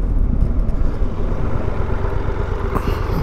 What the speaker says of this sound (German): Dann schauen wir mal, wie das Ding bremst. Aus 100.